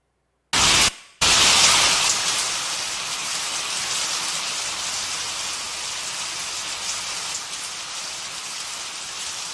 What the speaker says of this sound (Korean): 비가 오는데 주발 하나는 바로 놓고 주발 하나는 엎어놨어요.